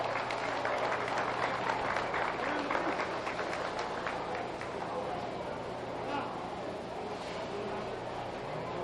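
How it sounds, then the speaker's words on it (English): Dense, steady applause from a crowd at a county fair beef show, a continuous wash of clapping sustained throughout at a moderate distance. "Let's show our appreciation and give them a nice big round of applause."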